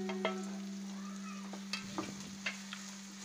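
Cashews stirred into onions frying in a pan, with a steady low sizzle and a few scattered clinks and scrapes of the spoon, close and fairly quiet.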